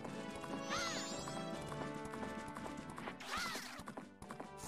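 Rhythmic clip-clop of galloping horse hooves in The Legend of Zelda: Majora's Mask HD, with two shrill whinnies and music underneath, loud and close.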